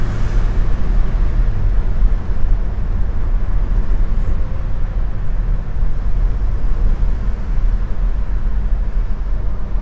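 A 1967 Oldsmobile Delta 88 V8 pulls at half throttle, a steady loud low engine drone with road rumble, holding even throughout with no talking.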